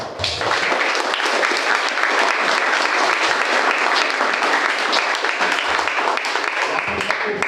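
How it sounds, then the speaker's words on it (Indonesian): Sustained applause from an assembled school congregation at an Easter Mass in Medan, steady and dense clapping filling the room for several seconds with no voices over it. "Kita tepuk tangan untuk Pak."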